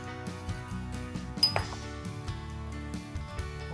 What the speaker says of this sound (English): Also just stirring all of this together.